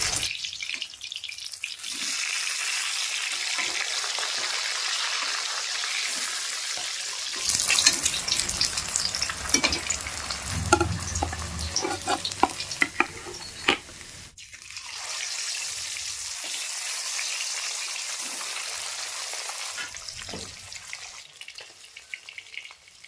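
Rupchanda fish pieces fry in hot oil in a kadai, turned over one by one. A steady, loud sizzling hiss fills most of the stretch, with a busier, crackling burst in the middle.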